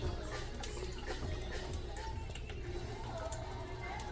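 White wine vinegar, about a cup, pours into a hot pan holding chicken juices, giving a steady, loud splashing sizzle that fills the whole stretch without pause.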